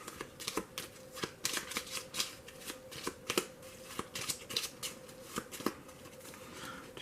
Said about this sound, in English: 2 cards, shuffle up.